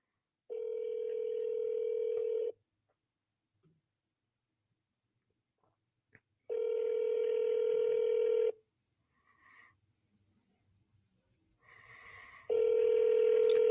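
Telephone line tones: long, steady electronic tones about two seconds each, repeating at even intervals with silent gaps between, clear and close, while someone keeps calling the same number.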